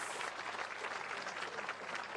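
An audience claps steadily at a Yamakoshi bullfighting event, a dense, continuous patter of many hands that stays loud and even throughout the short stretch.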